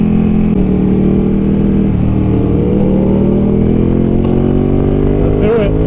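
A Ducati Panigale 1299 S Anniversario or V4 Panigale Speciale motorcycle engine in sport mode revs loudly and close, its pitch climbing steadily in one long sustained pull with a faint voice underneath.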